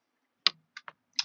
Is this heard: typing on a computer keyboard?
yes